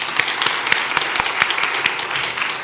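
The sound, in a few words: congregation applause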